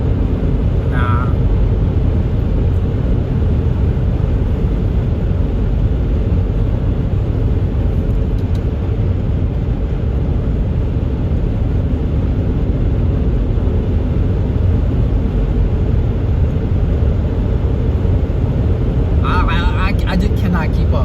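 A V6 car races hard, its engine a loud, constant low rumble heard from inside the cabin without letup throughout.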